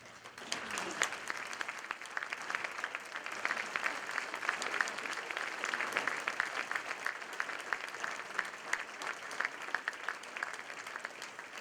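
A room full of people at a Rotary event claps steadily for about ten seconds, dense and even applause heard from within the crowd.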